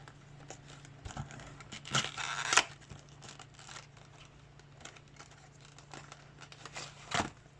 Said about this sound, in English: I am one of the kind who use a little craft knife